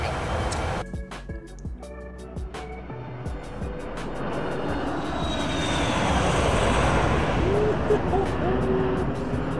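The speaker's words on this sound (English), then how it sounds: "One more flyby for the man." A Boeing 737-300 in the X-Plane 12 flight simulator makes a low flyby, its engine roar swelling from a moderate rumble to a loud, sustained, broadband drone that fills the end of the stretch; a voice speaks briefly over the start.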